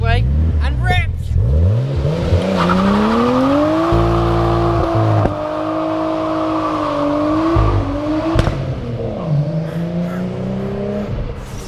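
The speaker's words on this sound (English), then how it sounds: "the Nissan finally leaves the driveway and rips!" Nissan 200SX S13 with a turbocharged RB25DET engine pulling away from a driveway and revving hard, loud and close, with rising and falling engine pitch through gear changes and a sharp crack near the end.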